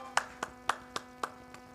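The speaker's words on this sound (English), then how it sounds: "can you please give a round of applause for Dr. Penny Njoroge?" Sparse clapping from a summit audience, about seven distinct claps spaced roughly a quarter second apart, fairly faint and without voices.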